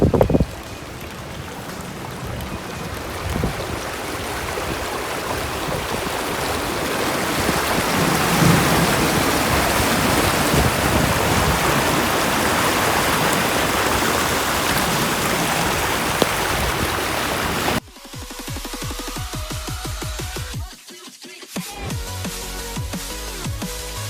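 Heavy rain pours onto flooded streets where the drains have overflowed, a loud, continuous roar of falling and rushing water that swells mid-way, then shifts abruptly to a choppier, broken texture near the end.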